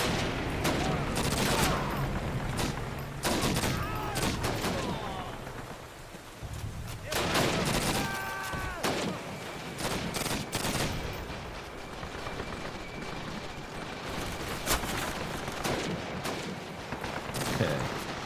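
Rapid bursts of PPSh submachine gun fire in a Call of Duty: United Offensive battle, dense and chaotic with other gunfire and explosions, repeated bursts across the whole stretch, with some voices mixed in.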